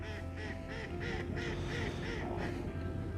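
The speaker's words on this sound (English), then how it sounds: "well, if anything, the ducks are having a good time" Ducks on a fishery lake quack in a steady run of calls, moderately distant and fairly faint over a low background hum, with no talk.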